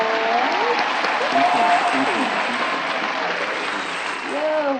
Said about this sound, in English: Let's go on and give him a round of applause.